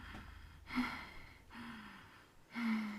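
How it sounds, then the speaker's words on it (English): Three heavy breaths, loud gasping inhales spaced about a second apart, close and airy with low rasping tone, no talking. "Not the first time I've heard heavy breathing on this show."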